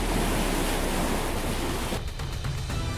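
Ocean water surges and crashes against floating sea ice in Alaska, a loud, continuous roaring wash of surf with a churning break near the end, with no voices.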